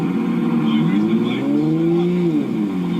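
A Toyota Supra's engine drones loudly and close, its tone rising and falling as the revs swing up and back down.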